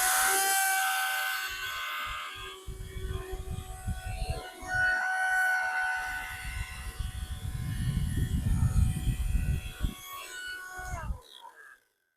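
A cheap, unhealthy-sounding vacuum cleaner motor drones and whines while sucking up sand, steady with rising and falling surges during a pass, then cutting out at the end.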